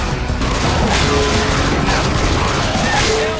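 Gunfire in the zombie shooter Left 4 Dead 2, with loud, dense shots and booms crowding a noisy game mix and sustained bursts running throughout.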